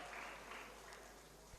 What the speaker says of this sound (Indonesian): Tepuk tangan untuk Zefi.